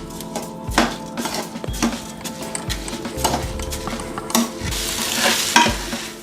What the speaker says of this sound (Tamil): இதை நல்லா காயோட மிக்ஸ் ஆகிற வரைக்கும் கலந்து விட்டுக்கிற போகிறோம்.